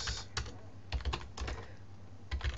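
Computer keyboard typing an email address into a Joomla 1.5 user form, in short bursts of close, crisp key clicks separated by brief pauses.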